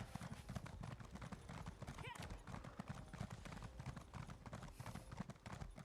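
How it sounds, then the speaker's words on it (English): A horse is ridden in the video game Elder Scrolls Online, its hooves beating a quick, continuous clip-clop rhythm throughout, quiet and even, with an occasional whinny. "Well, Horsey? Ride!"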